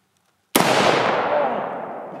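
A single loud gunshot from a Del Ton AR-15 rifle cracks sharply after a brief silence, then a long, broad echo rolls on and decays slowly outdoors.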